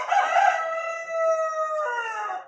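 A rooster crows once in a long, clear cock-a-doodle-doo, loud and close, rising in a burst then holding a steady drawn-out tone before trailing off, with no voices or other sounds.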